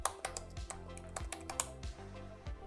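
Typing on a computer keyboard, with quick, close, distinct key clicks in an uneven rhythm and no talking.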